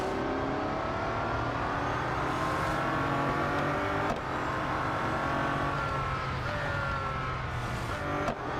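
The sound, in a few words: Bugatti Centodieci racing in video game Real Racing 3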